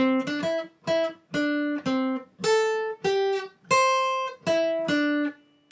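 A plucked guitar plays a short melody from the Super Mario Land overworld theme, separate notes, some in quick pairs, each ringing briefly before the next, clear and close.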